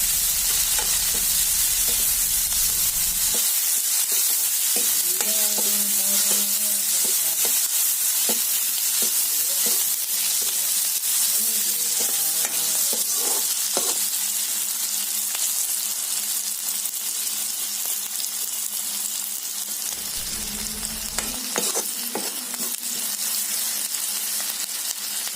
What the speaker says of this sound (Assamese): পিঁয়াজখিনি ভালকৈ ভাজি ল'ব।